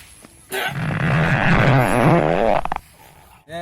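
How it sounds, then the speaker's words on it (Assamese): A long, loud, low rumbling fart in a farting contest, sustained for about two seconds with a wavering, buzzing pitch, preceded and followed by quiet room noise. "দে শুনাচোন শুনা কেনেকেনো তই পাদি পেলাই শুনাও"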